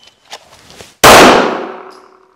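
A HS H11 pistol round strikes a steel target with one sharp, loud metallic clang that rings and fades over about a second, after faint handling noise.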